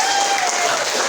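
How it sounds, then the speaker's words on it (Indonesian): Brief burst of audience applause for a participant during an online Scratch coding training session, dense steady clapping filling the whole moment. "Tepuk tangan buat Naura"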